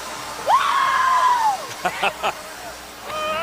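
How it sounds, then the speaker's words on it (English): Crowd at the 2010 UConn women's NCAA basketball championship lets out a rising, sustained scream after the 53-47 win, followed by short sharp yells and a renewed cheer. "I think that was a scream of relief."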